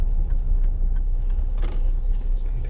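A car pulls up on a narrow road with single yellow lines between Kingsdown and Deal in Kent, a steady low engine and road rumble with a few light clicks above it and no talk.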